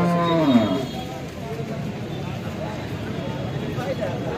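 Cows at a busy cattle market in Alephata, one lowing clearly near the start over a steady crowd murmur with people talking throughout.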